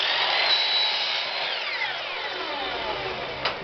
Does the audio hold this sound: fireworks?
no